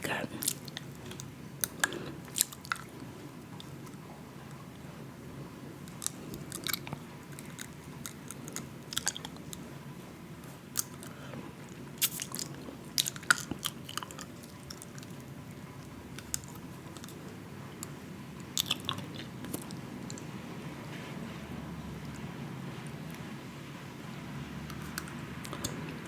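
Soft sour apple candy being chewed close to the mic, with sticky, clicky mouth sounds and occasional crunchy bites over a steady low room hum; brief talk between bites.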